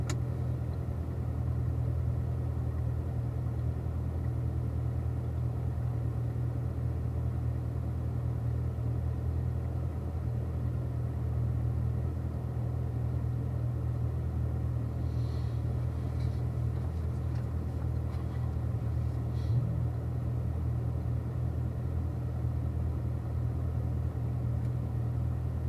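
Car engine heard from inside the cabin with the windows rolled up, a steady low rumble and idle drone that holds constant throughout, muffled and close.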